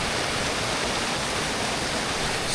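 Continuous broadband rush of a Highland stream flowing toward the sea below Clashnessie Falls in Scotland, steady and loud with no pauses.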